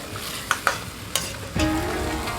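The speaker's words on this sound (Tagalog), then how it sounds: "Keep on stirring. Toss it if it's needed." Kung pao tossed and stirred in a hot pan, with a steady sizzle of frying and a few sharp scrapes and clacks of the utensil against the metal, close up with no talking.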